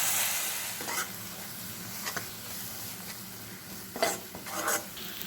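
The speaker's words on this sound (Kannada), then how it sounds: "ಖಾರದ ಪುಡಿ, ಧನಿಯಾ ಪುಡಿ ಮತ್ತು ಅರಿಶಿನ ಪುಡಿ ಇದನ್ನು ಹಾಕೋಣ. ಚೆನ್ನಾಗಿ ಮಿಕ್ಸ್ ಮಾಡಿ." Chili, coriander and turmeric powders stirred into frying lady's finger khurma: steady oil sizzle under repeated scraping strokes of a spoon against the pan, close up, with no talking.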